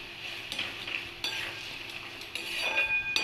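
Masala of cumin powder, coriander powder and red chilli powder stir-fried in a pan, with a soft steady sizzle and brief scraping strokes of a spatula at moderate distance, no talking.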